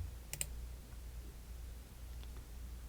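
Pressing the publish button on a computer in a chatbot builder gives a quick pair of soft mouse clicks, close and faint against a quiet background hiss.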